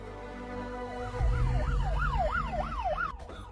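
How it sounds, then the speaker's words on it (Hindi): A wailing siren sweeps up and down in steady cycles over a low rumbling engine, loud and close. "ये तो पुलिस का सायरन है।"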